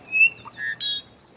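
Several short, clear calls from an i'iwi, a red Hawaiian honeycreeper of the high mountain forests of Haleakala, Maui, sounding as a thin whistle, a brief low note, a buzzy tone and a harsh squeaky burst, close and alone.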